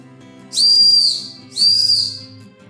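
A hand-turned wooden whistle gives two loud, shrill blasts, each roughly a second long, with a short pause between them.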